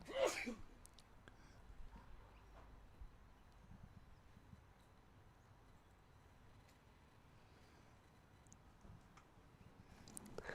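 A single quick sneeze right at the start of a lawn bowls broadcast, fairly close, followed by quiet room noise and a brief rustle near the end.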